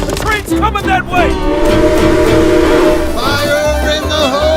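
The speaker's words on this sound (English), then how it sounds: "The train's coming that way!" Train whistle and rumble played as a ride effect on the Fire in the Hole roller coaster, a reskinned indoor dark-ride coaster at Silver Dollar City; loud, sustained horn-like tones over constant rumble, with people talking and shouting over it.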